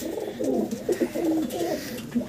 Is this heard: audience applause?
no